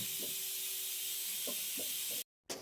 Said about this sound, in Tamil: இந்த குக்கரில் விசில் ஊத ஆரம்பிச்சு பார்த்தீங்களா